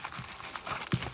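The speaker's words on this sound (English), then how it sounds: "now let's start the shuffle" Brief crisp riffling and crinkling as trading cards are shuffled at a card shop, a quick burst of papery flicks close by, fairly quiet.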